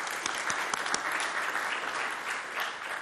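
Audience applause at a cycling event presentation in Cameroon, a steady dense wash of many hands clapping throughout, with a few sharper claps standing out early and a faint voice underneath.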